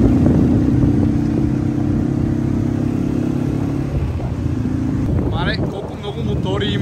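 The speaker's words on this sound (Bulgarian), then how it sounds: "Колко много мотори има" Bangkok street traffic with many motorcycles, a continuous loud engine drone and road roar close by, with passing whines and a voice briefly audible near the end.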